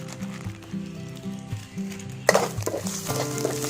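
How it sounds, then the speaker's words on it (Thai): Thai chili curry paste hits hot oil in a wok over a charcoal stove for stir-fried holy basil chicken. A low mechanical clatter gives way to a sudden louder, hissing sizzle with scraping stirs, and no one talks. "น้ำมันร้อนแล้วก็ใส่พริกแกงลงไปเลยครับ"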